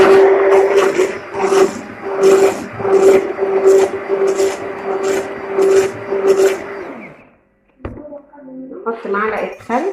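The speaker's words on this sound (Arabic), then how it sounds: "هنضرب البيض، نضربه حوالي 3 دقايق" Eggs being beaten for a plain cake batter, a fast rhythmic series of close scraping whisk strokes with a steady tone, stopping briefly near the end before resuming under a woman's speech.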